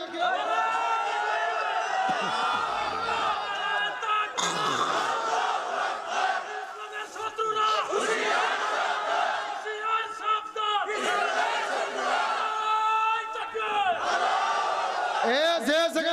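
A large crowd at an outdoor Islamic religious gathering (mahfil) roars together in loud, repeated waves of shouting, swelling and dropping across the stretch with no single voice standing out.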